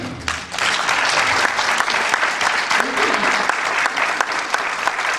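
Sustained audience applause fills the room at an end-of-course celebration, steady and loud throughout with a few voices briefly audible in the crowd.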